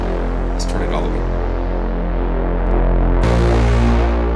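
Heavyocity Mosaic Bass virtual instrument with its punish effect pushing harmonic distortion and overdrive, a loud sustained gritty bass drone that thickens and swells brighter near the end, with no talking over it.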